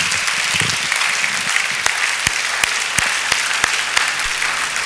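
A church congregation claps steadily through a Sunday thanksgiving service, a dense, continuous wash of applause from many hands, with a few sharper individual claps popping out above the crowd.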